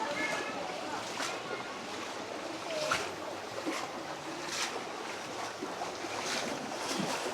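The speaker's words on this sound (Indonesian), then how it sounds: "Ini cukup kencang di sini nih arusnya." Strong current of tidal flood seawater surges through Muara Angke as a steady, rushing wash of water, with wind buffeting the microphone and faint voices underneath.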